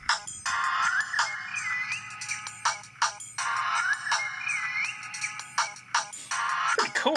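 Ringtone from an HTC Dream / T-Mobile G1 Android phone: a loud, bright electronic melody with chirping, sliding tones, played in two repeated phrases separated by short gaps, heard alone with no voices.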